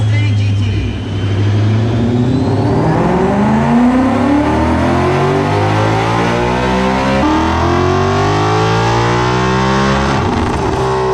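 A Ford Mustang Boss 302 engine revs hard on a dyno at Papinis Garage, its loud, steady roar climbing and falling in pitch through repeated sweeps, close and continuous for several seconds.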